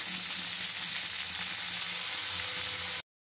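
Capsicum and tomato fry in hot oil with a steady, dense sizzle that stays loud and even for about three seconds before cutting off abruptly.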